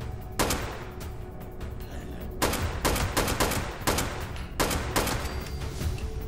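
Shotgun fire in the video game Fallout 76: about eight loud single blasts at irregular intervals of roughly half a second to a second, each ending in a short decaying tail.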